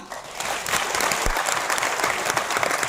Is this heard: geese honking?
no